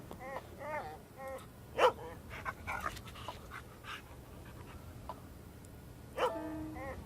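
A dog in the point-and-click game Dark Tales barks and yips in several irregular bursts over a low ambient background, moderately close, with a couple of louder barks standing out.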